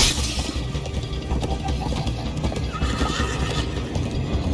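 Horse hooves pound at a steady gallop in Minecraft: Story Mode beneath a loud, busy game soundtrack, with a whinny rising briefly through the dense mix.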